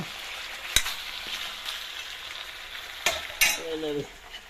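Local chicken meat fries in a pan with a steady, close sizzle, broken by a few sharp scrapes and clanks of a utensil stirring it.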